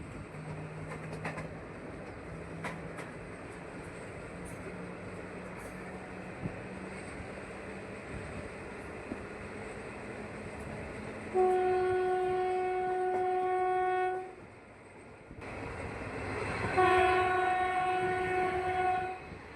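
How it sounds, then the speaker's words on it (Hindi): A container goods train bound for Mundra Adani Port rolls past a train in Kutch, its horn sounding in long sustained blasts over a steady rumble and clatter of wagons, loud and close. "ये container goods train Mundra Adani port के लिए है।"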